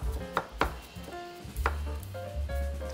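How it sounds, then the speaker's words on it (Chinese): Water chestnuts being chopped lightly on a cutting board for a steamed pork patty, a few sharp close knife strikes landing at irregular intervals over a low background hum. "我哋就將佢輕輕剁一剁碎佢得噶啦"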